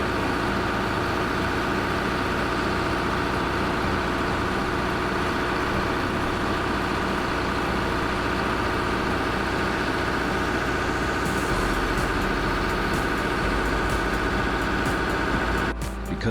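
Heavy vehicle engines labor on loose gravel at an excavation site, a loud, steady low rumble that holds for the whole stretch, ending with a brief clatter.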